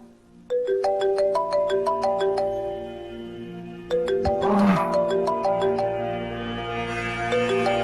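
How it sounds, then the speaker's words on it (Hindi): A mobile phone rings with a bright melodic tone repeating in two loud bursts, and a brief voice cuts in partway through. "फोन आ रहा आपका"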